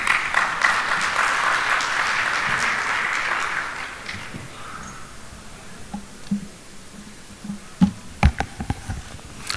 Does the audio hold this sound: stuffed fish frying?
no